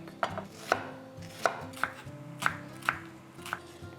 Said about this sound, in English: I'm going to do half an onion, chopped the same way.